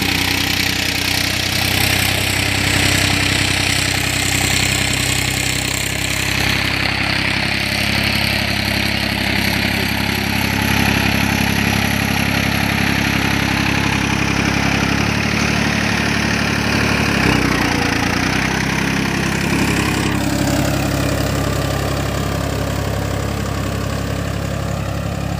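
A Farmtrac 60 T20 tractor with a turbo fitted runs its diesel engine, a loud, close, continuous throbbing idle with a low heavy knock that holds steady throughout, with no talk.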